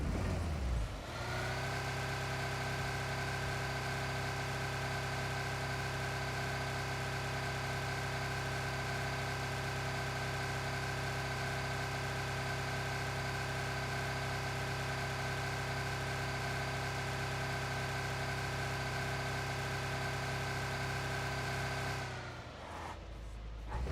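A car engine in PUBG Mobile runs steadily while the vehicle reverses under boost, a sustained loud drone with stable harmonics for about twenty seconds before cutting off near the end.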